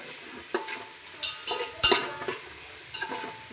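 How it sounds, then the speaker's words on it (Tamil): Onions sprinkled with salt sauté in a pan for veg biryani, a soft sizzle broken by a few scraping stirs of a spatula, close and clear, with no voices. "நல்லா வ வதக்கிக்கலாம் வெங்காயம் எந்த அளவுக்கு வதங்குதோ அந்த அளவுக்கு பிரியாணி நல்லா டேஸ்ட்டாக இருக்கும்"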